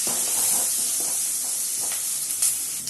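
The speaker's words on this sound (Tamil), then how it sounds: "இது மாதிரி நல்லா வதக்கி விட்டுக்கோங்க" Eggplant sautéing in hot oil for Tamil ennai kathirikkai kulambu, a steady close sizzle and hiss with faint stirring scrapes throughout.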